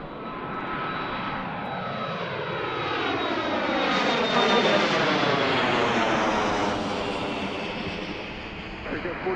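Airplane on approach to Washington Reagan National Airport, a steady loud jet engine roar with whining tones that swells through the middle and stays close for the whole stretch, with no talk over it.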